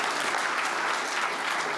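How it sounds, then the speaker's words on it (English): Broad, dense applause from a conference audience at a tech summit, steady and full throughout the short burst with no voices over it. "So a round of applause for all of our developers, partners,"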